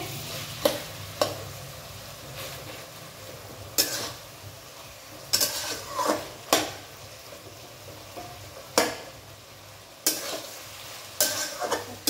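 Lemon-and-pepper marinated chicken stir-fries in a pan for homemade chow mein. A soft, steady sizzle runs underneath as a spatula scrapes and knocks at irregular intervals, close and clear.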